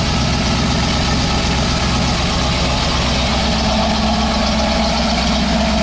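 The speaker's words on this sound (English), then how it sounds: "Again, you can hear the engine. No knocks, no ticking." A 1968 Chevrolet Camaro Z28 V8 engine idles with a deep, steady rumble through its dual exhaust, loud and close, running evenly without interruption, no knocks or ticking.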